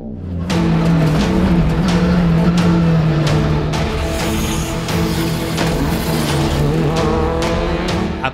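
A Skoda Fabia rally car drives a special stage of the Tour de Corse in Corsica, its engine roaring loud and close in one sustained high-revving pass with shifting pitch and faint tire noise.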